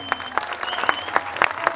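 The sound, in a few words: audience applause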